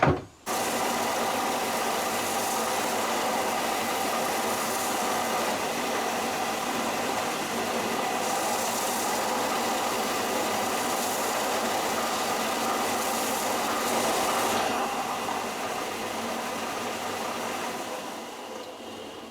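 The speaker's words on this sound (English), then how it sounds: "Going back to the sander quickly." A power sander works steadily on a wooden fishing lure, giving a loud, continuous whirring hiss that holds nearly unchanged for the whole stretch before easing slightly at the end.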